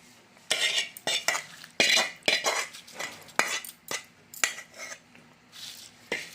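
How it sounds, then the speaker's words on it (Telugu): A spoon repeatedly clanks and scrapes in a metal pot while curry leaves fried in oil are stirred into gongura chicken pickle, a close, irregular run of loud metallic knocks and scrapes with no talking. "కొద్దిగా నూనెలో కరివేపాకు వేయించుకొని కలిపేసుకుందాము"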